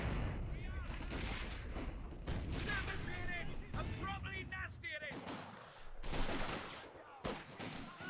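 Bursts of Vickers machine gun fire in Company of Heroes 2 battle, rattling under continuous commentary with other distant battle sounds mixed in.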